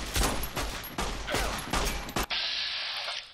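Gunfire in Fallout New Vegas: several loud, close shots in quick succession, each with a sharp crack and short echoing tail, followed by a high ringing tone as the firing stops.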